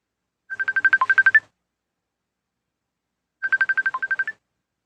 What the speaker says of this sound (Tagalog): Tawagan ako si Berto.